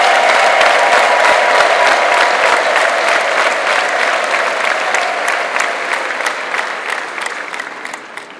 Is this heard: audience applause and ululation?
yes